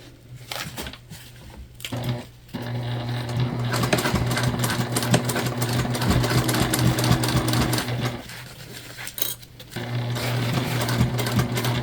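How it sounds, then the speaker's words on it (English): Sewing machine stitching bag fabric along a curved seam, a steady close mechanical whir that runs for long stretches with a few short stops. "And you just sew this 1/8 of an inch away from the edge"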